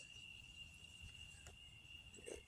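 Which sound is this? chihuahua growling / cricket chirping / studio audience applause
cricket chirping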